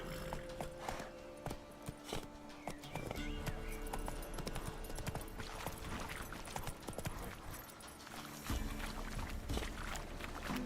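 Galloping hooves of the horse Roach in the video game The Witcher 3, a continuous rhythmic clip-clop with game music and ambience underneath.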